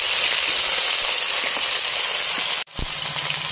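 Vegetable stems and tomato hit hot oil in a wok, giving a steady loud sizzle and hiss that holds throughout, with a brief clatter near the end and no talking.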